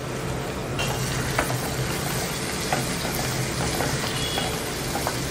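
Mustard seeds, asafoetida and curry leaves sautéing in hot oil for fenugreek leaf sambar give a steady dense sizzle and crackle, with occasional light stirring scrapes, continuous and close.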